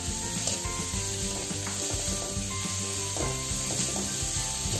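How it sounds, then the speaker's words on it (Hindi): Finely chopped carrots, beans, capsicum and onion sauté in a hot pan, giving a steady close sizzle with soft stirring scrapes and no talking. "इन सबको डाल के हल्का सॉफ्ट होने तक सेकेंगे।"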